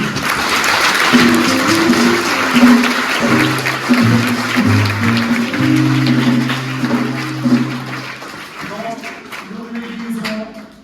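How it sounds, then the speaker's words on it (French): Children applaud during a children's Mass at Sainte Agnès parish church, a steady wash of clapping lasting about eight seconds before thinning out, with voices or sung tones carried over it throughout. "Donc, veuillez applaudir pour lui."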